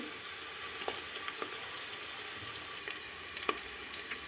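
Sliced onions fry in hot oil for a cauliflower masala curry, a soft, steady sizzle broken by occasional sharp pops and spatters, fairly quiet and without voices.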